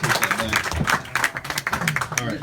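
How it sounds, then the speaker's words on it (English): Audience at a stand-up comedy show breaks into applause, dense clapping and crowd noise filling the room for a couple of seconds, with a voice speaking over it. "Round of applause for our man."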